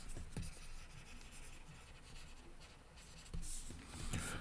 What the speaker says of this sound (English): And I'm going to write chemical properties over here.